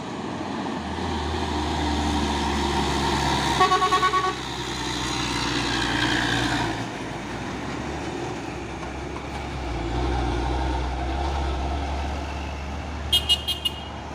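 A Hino 500 heavy truck rumbles past with a deep, steady engine drone that swells and fades, and a brief horn toot sounds near the end.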